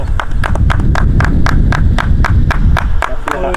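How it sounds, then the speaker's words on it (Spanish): A small group claps together in a steady, brisk rhythm of distinct claps, close and loud, with some talk and hum underneath. "Un aplauso. ¡Aplausos!"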